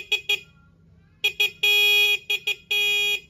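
A stock motorcycle horn honks in a series: two short toots, a pause, two more short toots, a long blast, two quick beeps and another long blast, loud and close against quiet background.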